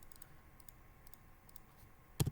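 Computer keyboard typing, faint scattered key clicks in a quiet room that end with a burst of loud close keystrokes.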